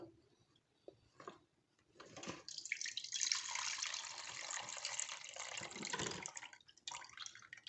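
Water splashes and trickles as it is poured off mango pickle, starting with faint drips and then a steady, nearby pour that tapers off.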